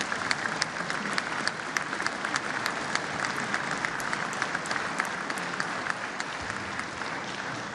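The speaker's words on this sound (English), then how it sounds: "So please give them a round of applause." A large audience at a state address applauds the State Board of Education, dense steady clapping from many hands that fills the room and continues evenly throughout.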